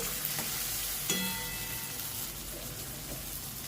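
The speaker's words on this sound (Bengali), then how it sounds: "লবণটা দিয়ে একটু নেড়ে চেড়ে দেব" Salted arhar (toor) dal ingredients frying in a pan while being stirred, a soft continuous sizzle with a few faint scrapes and clinks, fairly quiet throughout.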